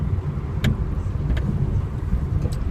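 A car on the road produces a steady low rumble of engine and tyre noise, with a few faint clicks over the continuous drone.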